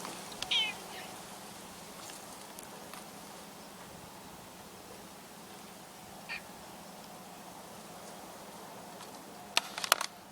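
A cat meows a few times, with a short call near the start, another in the middle and a couple at the end, fairly faint over a steady low background hum.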